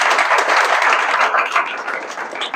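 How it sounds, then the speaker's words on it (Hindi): Loud, dense applause from an audience at a Hindi motivational talk, a steady wash of many hands clapping close by for the whole stretch and tapering slightly near the end. "आंसर मिला हो तो एक बार जोरदार तालियां होनी चाहिए।"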